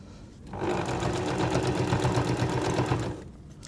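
A sewing machine runs steadily for about two and a half seconds, stitching binding onto a pressed, layered quilt. It starts and stops cleanly with a close, even mechanical whir.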